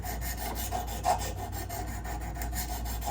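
Knife blade sharpened on a Wicked Edge system with a coarse 100 grit stone, giving a faint, steady rhythmic rasping of repeated strokes with no talk.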